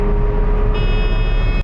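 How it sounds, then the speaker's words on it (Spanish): A thin, steady high-pitched electronic shift warning beep sounds over the low drone of a 1984 Mazda RX-7's rotary engine running inside the cabin. "Escucha ese pequeño pitido."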